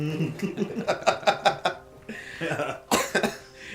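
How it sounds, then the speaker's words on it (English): A burst of several rapid coughs in a row, followed by a short pause and a couple more harsh coughs close by. "He caused me to cough"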